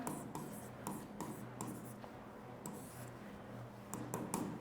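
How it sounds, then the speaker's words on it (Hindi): A pen writing on paper in short repeated strokes, a close, quiet scratching broken into quick bursts with brief pauses between them, over a faint low hum. "तो ये स्टेप्स हम लिख रहे हैं।"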